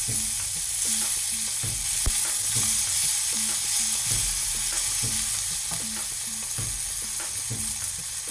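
Loud, continuous sizzling of chopped ginger and green chilies frying in hot oil, with a utensil repeatedly stirring and scraping the pan in an irregular rhythm.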